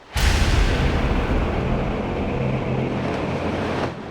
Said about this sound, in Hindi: हर रात मैं इन लहरों की आवाज सुनती हूँ